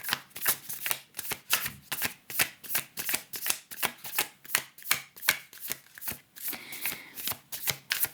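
Tarot cards are shuffled close up in a quick, regular rhythm of crisp riffling bursts, roughly two or three per second, with no talking.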